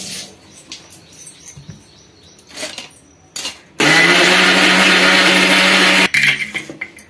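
Mixer grinder blending tomatoes for a country chicken curry, a loud steady whir running for about two seconds in the middle, with quieter kitchen clatter before and after.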